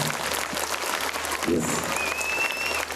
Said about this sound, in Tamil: கைத்தட்டல் கம்மியா இருக்கு.